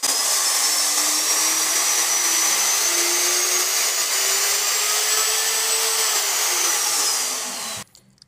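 A Skil electric router runs loud and close with a steady high whine whose pitch climbs gradually as the speed is raised from the lowest setting, then cuts off abruptly near the end.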